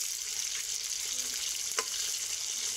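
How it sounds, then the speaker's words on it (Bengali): Pointed gourds frying in oil in an uncovered pan give a steady broadband sizzle throughout, with one brief clink of a utensil near the end and no talking. "ঢাকনা না দিয়েই আমি লাল লাল করে পটলগুলো ভেজে নেব।"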